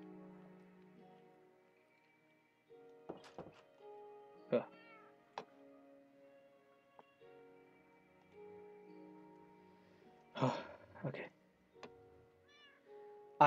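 Minecraft cat meowing in a video game, several short meows spread out over quiet game ambience with faint ticking and tones, a few close and clear ones later on.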